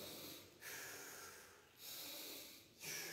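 Heavy, close breathing of a person running, with three loud hissing exhalations at an uneven pace and quieter intakes between them, and no talk.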